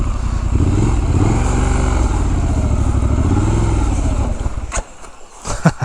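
A 2019 Triumph Scrambler 1200 XE engine runs loud and close with a deep throbbing rumble, then abruptly cuts out as it stalls, leaving a few clicks and faint rustles.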